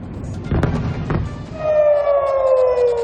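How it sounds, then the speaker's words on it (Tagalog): Air raid sirens in Tel Aviv, Israel wail with rising and falling tones, preceded by a couple of sharp bursts, loud and somewhat distant-sounding. "ang alingaw-ngaw ng mga sirena sa Tel Aviv"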